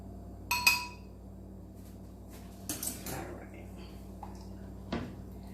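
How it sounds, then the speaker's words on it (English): A spoon stirring honey into elderberry syrup in a glass jar gives a few bright clinks against the glass, spaced apart, with faint scraping between them in an otherwise quiet room. "we'll give it a good stir so that we can dissolve this honey"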